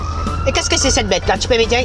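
An ambulance siren in the game Ward 13 wails steadily behind someone speaking French, its rising and falling tone running throughout at a moderate level under the voice.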